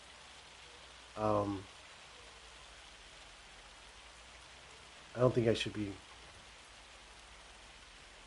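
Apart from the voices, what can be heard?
rain falling in Farming Simulator 25 video game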